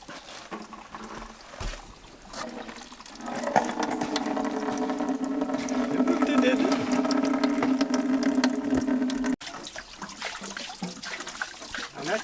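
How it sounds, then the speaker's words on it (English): Water running through a wooden flume onto a water wheel at an off-grid cabin hydro setup, a steady rushing flow with a low humming tone that builds and holds loud, then drops abruptly to a lighter trickle. "And we got some water starting to come through the flume."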